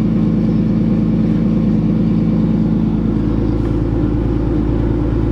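A Nissan S13 with an RB engine idles while warming up, giving a steady, loud, low throbbing hum with an even pulse that runs unchanged throughout, without talk.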